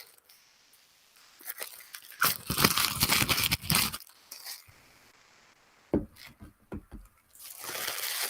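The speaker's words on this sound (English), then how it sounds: "Put this up to the speaker so you can hear the crinkling." Plastic packaging wrapper from a Disney Villains tarot deck crinkling and tearing close up, in irregular bursts of loud rustling separated by quieter pauses, with no talking.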